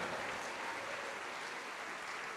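A church congregation applauds steadily during a worship service, a dense continuous wash of clapping that holds at an even level throughout, with no voices rising above it.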